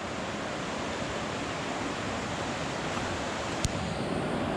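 Clear water of the Lochsa River rushes past in a steady, broad hiss, heard near and even throughout. A single brief tap lands near the end, with no talk.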